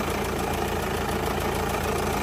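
A 2008 Hyundai Santa Fe with a turbo diesel engine idles smoothly, giving a loud, steady, close-up rumble with an even mechanical patter and no break.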